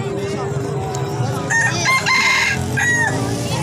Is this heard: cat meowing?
no